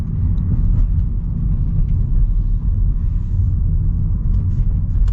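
A 2024 Hyundai Elantra Limited, a smaller sedan, drives along with a steady low road and engine rumble heard from inside the cabin, even and unbroken throughout.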